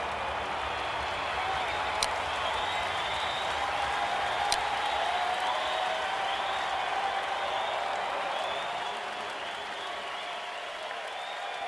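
A large stadium crowd at an IPL cricket match between CSK and MI applauds a dot ball, sustained dense clapping and cheering rolling on for several seconds at a distance. A voice may sound faintly beneath it before the applause gradually eases.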